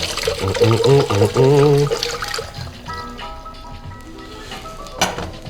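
Red wine is poured into a measuring jug for sangria: a close, splashing, glugging liquid pour followed by quieter trickles and a light clink.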